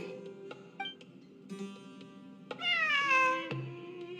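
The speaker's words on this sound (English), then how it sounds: "A cat? I think there was one earlier, too. I'm not hearing things. It really is a cat." A cat meows in Genshin Impact during ruins exploration, several short mews followed by one longer, louder drawn-out meow, close and clear over quiet background.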